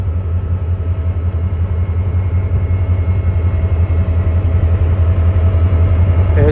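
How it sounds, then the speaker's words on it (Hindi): The 152 Down Shah Latif Express pulls out of Mirpurkhas station bound for Karachi, hauled by an HGMU locomotive: a steady, loud low rumble and drone of engine and rolling stock, continuous throughout with no voices. "तो दोस्तों ट्रेन रवाना हो रही है अब 152 डाउन शाह लतीफ़ एक्सप्रेस मीर प्रकाश से।"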